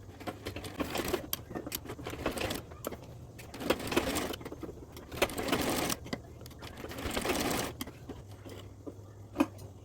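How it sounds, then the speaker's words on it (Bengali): A sewing machine stitches together the two ends of doubled elastic for a salwar waistband, running in short bursts of rapid mechanical clatter separated by brief pauses, close and clear. "এরপরে রাবারের এই দুই মাথা সেলাই করে জোড়া লাগিয়ে নিলাম"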